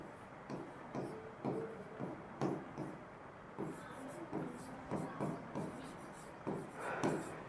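Chalk or a marker writes on a board during a lesson, making soft, repeated scratching strokes in short bursts. A faint voice sometimes speaks underneath.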